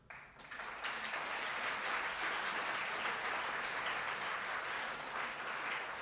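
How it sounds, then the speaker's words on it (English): Audience of students at a naturopathy and yoga college freshers' day breaks into applause, a sustained, even roar of many hands clapping that swells in quickly and holds steady, heard from within the hall. "give a round of applause to yourself"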